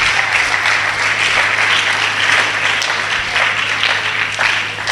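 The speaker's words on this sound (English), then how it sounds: "Please, a round of applause for them." Sustained audience applause for a mother and father at a talk on drug addiction and cult activity, dense steady clapping holding loud for the whole stretch with no voices over it.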